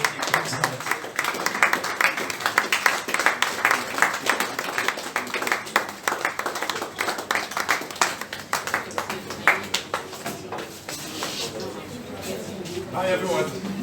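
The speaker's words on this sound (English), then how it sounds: "So please, with a round of applause" Audience applause at a hackathon briefing, welcoming a speaker to the stage. Clapping runs steadily for about fourteen seconds, moderately loud, and voices talk over it throughout.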